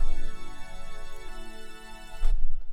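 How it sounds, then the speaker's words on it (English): Sustained organ-like synth layer from a Spire preset in a progressive house track, holding steady chords with a rich harmonic stack, shifting to a new chord midway and again near the end, played alone without voices. "Organ layer is a Spire preset in the keys section."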